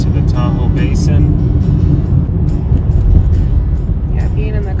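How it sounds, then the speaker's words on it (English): Steady low rumble from inside a car climbing winding mountain roads toward Echo Summit and the Tahoe Basin, with road and engine noise droning continuously and voices talking over it. "being in the car on windy roads and going up several thousand feet of elevation"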